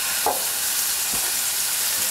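Venison loin sears in hot sunflower or other neutral oil in a pan, giving a steady, even sizzle and frying hiss throughout with a couple of soft clunks, no voices.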